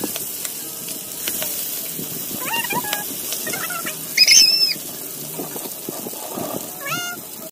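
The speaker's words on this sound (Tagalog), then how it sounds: "So yan mga katamsi, kay manamatag prito sa atong bangos." Milkfish (bangus) frying in cooking oil outdoors on a windy day: a steady sizzling hiss runs throughout while a cat meows repeatedly over it, with one louder high squeal midway. No one speaks.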